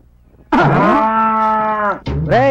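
A buffalo being milked gives one long, loud, resonant moo close by. A second, shorter call follows after a brief pause.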